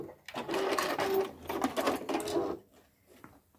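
A sewing machine stitches rapidly along the edge of fabric for a holiday stocking, a steady mechanical whir with a brief pause as it backstitches, then tapering off near the end.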